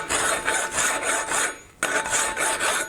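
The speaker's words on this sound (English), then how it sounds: "I'm going to touch it up with the file to make it more straight" Hand file rasping across a forged metal Art Deco bookend, close and loud in rhythmic back-and-forth strokes, with a brief pause before the filing resumes.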